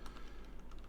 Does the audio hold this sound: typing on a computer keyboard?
yes